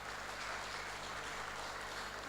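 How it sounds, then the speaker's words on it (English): Faint, steady applause from an audience at an architects' general assembly conference in Abuja, a soft continuous patter of many hands with a low electrical hum underneath and no talking. "Town Planner Queen Philip FNITP, a round of applause for her."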